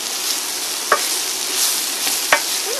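Mushrooms sautéing in a pan for garlic mushroom chicken thighs, a steady bright sizzle with two sharp clicks of a utensil against the pan.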